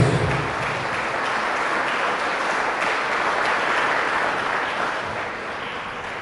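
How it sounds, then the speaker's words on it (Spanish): Catholic congregation gives loud applause to Jesus during a service, a dense continuous roar of many clapping hands holding steady, easing slightly toward the end, with no speech over it. "Fuertes aplausos a Jesús"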